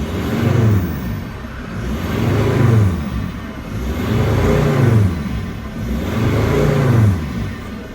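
A Mercedes Sprinter van engine with a turbo under-boost fault revs up and down in four steady cycles. Each rev swells and falls back in an even rhythm, loud and close, with no talk over it.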